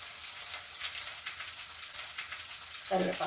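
Ginger and garlic frying in a pan, a faint, soft crackling sizzle with scattered little pops, ending in a brief clatter near the close.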